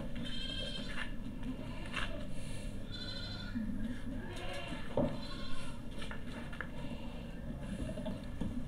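Goats at a livestock sale in Hyderabad, a Totapari male among them, bleat several times in wavering cries amid a busy, murmuring background of people talking nearby.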